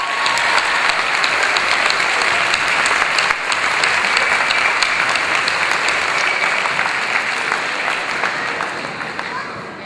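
A graduation-ceremony audience applauds Miss Linda West with steady, dense clapping that fills the room at full strength for about ten seconds, easing slightly toward the end.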